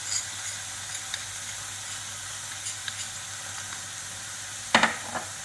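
Tomato puree and dry spices going into sizzling fried onions for a kala chana gravy, a steady close hiss of frying with a few faint clicks and one sharp clatter near the end.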